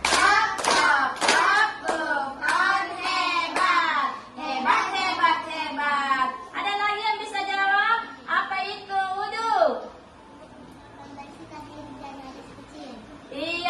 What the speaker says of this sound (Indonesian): Tepuk hebat. Tap, tap, tap.